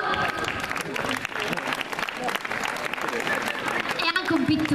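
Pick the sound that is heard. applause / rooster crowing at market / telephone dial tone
applause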